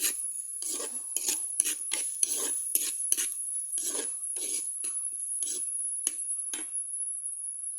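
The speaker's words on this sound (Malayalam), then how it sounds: "പച്ചമണം മാറുന്നത് പോലെ മണം മാറുന്നത് വരെ നമുക്ക് ഇളക്കി കൊടുക്കാം" A spoon stirs chicken liver curry masala with shallot paste in a pan, making a steady run of close, rhythmic scraping strokes over a constant high whine.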